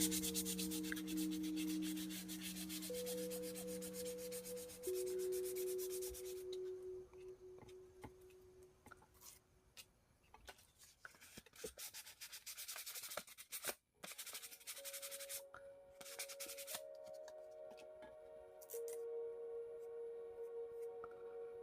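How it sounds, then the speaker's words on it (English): Sandpaper rubbing around the edges of a steampunk-inspired mixed media canvas, a close, steady scratchy rasp that continues in strokes and short bursts, with faint tonal hums in the background. "I'm going to go ahead and sand off the edges of this"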